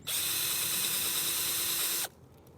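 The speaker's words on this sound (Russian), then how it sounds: "Находим большой хороший клен, делаем в нем отверстие." Power drill boring a hole through the bark into a large maple trunk in March to tap sap, one loud close two-second whir that stops abruptly.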